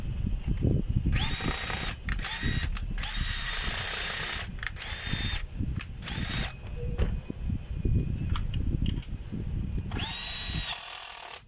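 A power tool spins and whines in repeated short bursts as it drives in a remaining screw, with ratcheting clicks between runs while fitting a washer on a beat piece.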